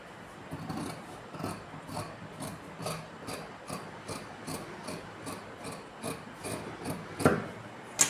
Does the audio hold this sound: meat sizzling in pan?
no